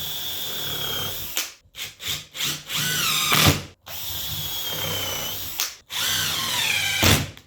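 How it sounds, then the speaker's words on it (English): A power drill pre-drills holes in timber, with several short whirring bursts that rise in pitch as the motor spins up, separated by brief pauses, close and loud. "I would say pre-drill the timber because you don't want it to split"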